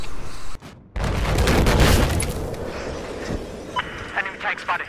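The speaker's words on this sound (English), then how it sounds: "I'm getting shot from a tank offshore." Heavy booms and explosions from tank fire in Battlefield 4 multiplayer combat, a loud rumbling blast after a brief cutout, followed by scattered gunfire and clanks, with speech mixed in.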